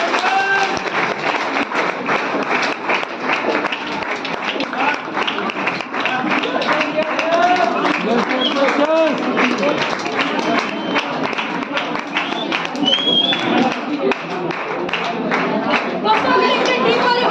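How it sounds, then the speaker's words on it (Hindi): Applause and clapping from an audience at a celebration program in Gandai honouring new ZTC leaders, a steady dense patter lasting throughout while people talk over it. "जोरदार ताली होना चाहिए।"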